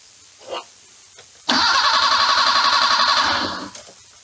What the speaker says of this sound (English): Let's try feeding it a little bit more throttle for a minute.